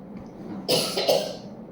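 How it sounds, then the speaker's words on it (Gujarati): A single close cough burst, sharp and harsh, followed by a second smaller cough, with quiet room noise around it. "બહુ ઉધરસ થઈ ગઈ"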